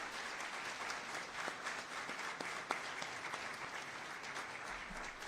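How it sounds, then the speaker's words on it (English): A crowd at a Loxahatchee news conference applauds Florida State Trooper Orlando Morales for rescuing a dog, steady dense clapping filling the space from start to finish at moderate loudness. "Let's give him a round of applause for your awesome efforts."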